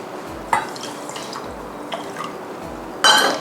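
Vinegar is poured into a cooking pot for plum sauce, with short splashing pours and bursts of liquid hitting the pot, close and fairly loud, with a stronger pour at the end.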